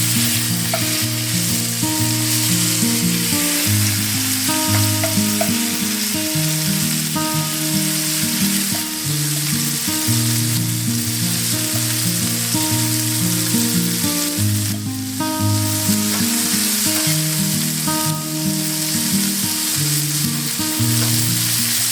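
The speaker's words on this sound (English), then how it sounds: "And stir to brown on all sides." Pork browns in a single pot, a loud, dense sizzle and crackle running nonstop with the scrape of stirring mixed in, close and with no talking.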